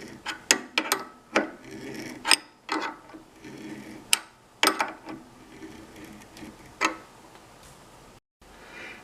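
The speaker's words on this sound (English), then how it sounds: "we'll just get that tap started this way. And it's going pretty easy." Metal threading tap being hand-turned into a pipe fitting on a garden irrigation line, giving a series of sharp, close ratcheting clicks and scraping bursts at irregular intervals with short quiet gaps between turns.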